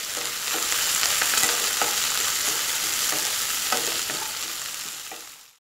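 Sliced onions, green chilies and curry leaves sizzle loudly and steadily in hot oil while being stirred, for egg rice, with no talk.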